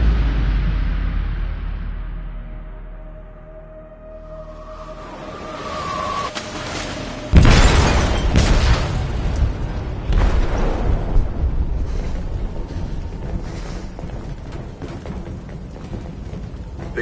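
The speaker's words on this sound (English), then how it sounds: "They detonated an explosive in the hold." An explosive detonating in a ship's hold during a video game, heard as a sudden loud boom after a quieter rising rumble, followed by sustained crashing, rumbling debris and metallic noise that fades slowly.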